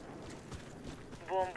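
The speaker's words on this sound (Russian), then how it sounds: "шаги слышь." Quick footsteps in the online shooter Warface, soft, repeated thuds underneath someone talking, with a brief tonal chime near the end.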